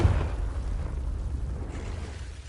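Confringo blasting spell explosion in Hogwarts Legacy, a heavy close boom at the onset trailing into a dense rumbling roar for a couple of seconds.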